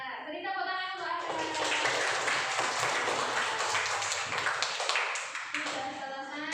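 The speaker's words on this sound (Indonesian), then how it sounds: "Ya, beri tepuk tangan untuk Anda." Fifth-grade classroom pupils clap together, a fairly loud, continuous burst of applause that swells quickly and fades after several seconds, with a voice briefly heard at the edges.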